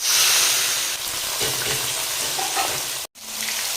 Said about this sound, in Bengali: তেল গরম হয়ে গেছে, চিংড়ি মাছগুলো ভেজে নেবে